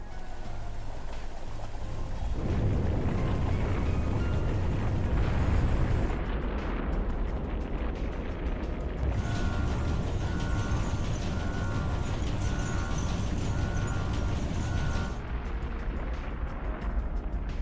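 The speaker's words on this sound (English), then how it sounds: "we're seeing the rocket launch again" A rocket launching in the video game Trails Beyond the Horizon: a low, roaring rumble that swells into a loud, sustained blast with crackling thrust, accompanied by game music and no talking.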